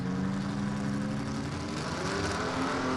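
H-Gas class gasser drag cars in a second-round elimination at a South Georgia drag strip, engines droning in a steady, loud, continuous roar with a buzzing tone that holds throughout.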